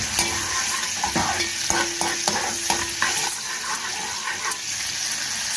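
Onions frying in a pan hiss and sizzle steadily as vinegar goes in, with stirring clatter and scrapes throughout; a close, continuous kitchen sound with no talking.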